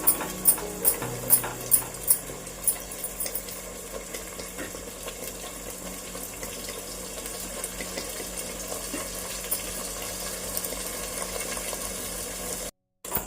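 Tomato puree sizzling and frying steadily in a pan while fish curry is cooked, with a continuous broadband hiss and crackle, a few sharper clinks near the start and a brief drop near the end.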